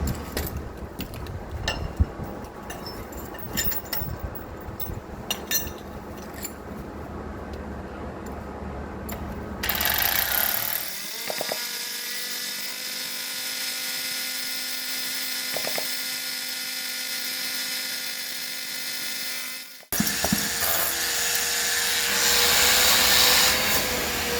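Power drill with a 12 mm bit boring an anchor hole for a safety roof anchor, a loud steady whining drone held for about ten seconds between quieter handling noises.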